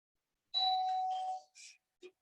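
A doorbell chimes indoors in a home yoga session, a sustained two-tone ding followed by a short third chime, moderately loud and alone.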